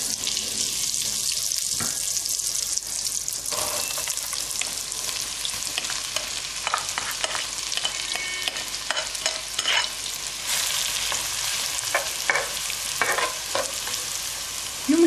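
Chopped onions hit hot butter and oil in a pan and fry with a loud, continuous sizzle, punctuated by repeated stirring scrapes and clinks throughout, no talking.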